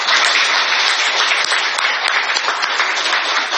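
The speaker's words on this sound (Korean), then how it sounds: "큰 박수 한번 부탁드리겠습니다." An audience at a National Assembly forum in Korea on school commute safety breaks into loud, dense applause to welcome a party leader. The clapping stays steady and close throughout.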